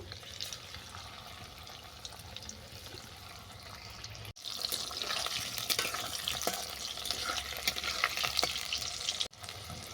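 Pakoras crackle and bubble in hot oil with a steady, faint sizzle that grows fuller and louder partway through, broken by occasional small clicks of stirring, heard close with no voices.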